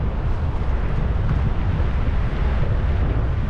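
Steady wind roars across a hilltop about 264 meters up, blowing from the southwest at Haresfield, a constant low rumbling buffet on the microphone with no pauses.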